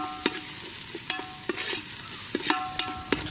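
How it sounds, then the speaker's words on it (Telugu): Ground masala paste for a country-chicken dum biryani frying and being stirred in a pan, with a steady low sizzle broken by several sharp scraping strokes of the spoon, close and clear with no talk. "గ్రైండ్ చేసుకున్న మసాలా పేస్ట్ని వేసుకుని బాగా కలుపుకుని పచ్చివాసన పోయే వరకు మరి కాసేపు బాగా వేగనివ్వాలి"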